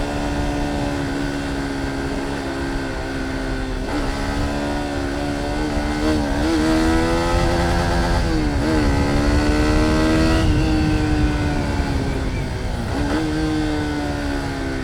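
Engine of a $500 motorcycle revving hard and held high in the power band, a loud close buzzing drone whose pitch climbs, dips briefly and climbs again several times over the whole stretch, with no voices.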